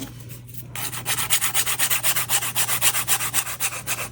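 A resin Christmas clock has its edges sanded by hand in quick, rhythmic back-and-forth strokes, close and steady, starting after a brief quiet moment.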